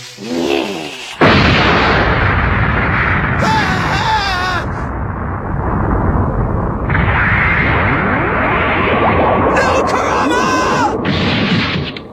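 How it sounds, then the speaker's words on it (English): Mad Bomb blasts from the Yu Yu Hakusho Dark Tournament fighting game, a loud sustained burst of explosive crashes and rumbling with sharp pops and bursts layered throughout, set against game action. "Time to say, bombs away! That's what I call my mad bomb."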